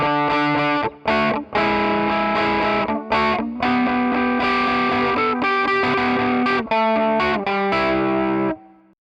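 Distorted electric guitar strums chords in a distinct rhythmic pattern for the chorus of a song, with a chorus effect, full and loud, with brief gaps between strokes.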